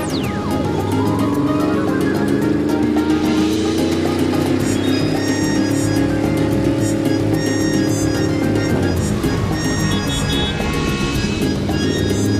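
A cartoon horseless car's engine runs steadily and loudly throughout, a constant rumbling drone with a rising, revving tone in the middle, up close and with no talking over it.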